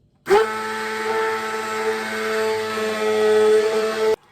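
An electric motor blender mixing oil and lye to make soap whirs at a steady loud pitch for about four seconds, starting abruptly and cutting off sharply, with no talk.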